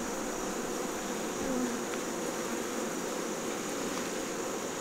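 Honey bees in an opened hive once infested with mites, after oxalic acid vapor treatment, give a dense continuous buzzing hum, close and steady, with no talk.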